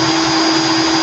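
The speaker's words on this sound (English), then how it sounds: "put my drill in reverse" A power drill running in reverse to pull nichrome wire off stainless steel whines at a constant pitch up close, a steady unbroken drone lasting about a second.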